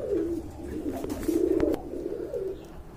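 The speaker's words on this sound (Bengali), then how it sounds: "তো বন্ধুরা আরেক জোড়া খাকি কবুতর দেখতে পাচ্ছেন" Khaki and red pigeons at a pigeon farm in Bangladesh coo nearby in repeated low throaty rolls, several calls overlapping at moderate volume, with brief clicks and rustles in between and no talking.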